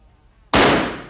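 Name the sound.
hydrogen explosion in a science demonstration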